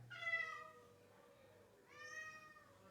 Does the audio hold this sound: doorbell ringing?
no